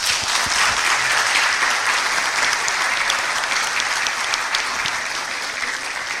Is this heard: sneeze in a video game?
no